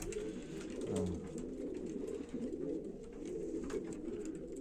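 Pigeons coo softly inside a loft, low throaty calls overlapping on a faint, busy background of rustling and bird movement.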